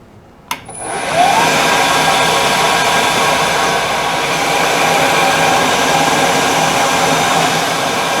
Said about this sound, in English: now I'm going to mill that slot up against the scribe line I made